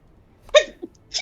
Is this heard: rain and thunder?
no